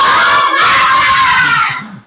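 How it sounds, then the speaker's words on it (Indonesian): A class of schoolchildren performs the 'tepuk semangat' spirit clap, a loud group chant of rhythmic clapping mixed with excited shouting and screaming that fills the room, then fades near the end. "Lagi sekali, tepuk semangat."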